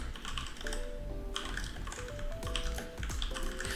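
Rapid typing on a computer keyboard while working in design software, a steady close run of light key clicks with background music and no talk.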